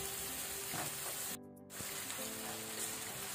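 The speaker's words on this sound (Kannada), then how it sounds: "ಇದನ್ನು ಸ್ವಲ್ಪ ಫ್ರೈ ಮಾಡುವ, ಹಸಿ ವಾಸನೆ ಹೋಗಬೇಕು ಶುಂಠಿ ಬೆಳ್ಳುಳ್ಳಿ ಅದು." Ginger garlic paste sizzling as it fries in a pan for a chicken roast: a loud, continuous sizzle that briefly dips partway through and then resumes.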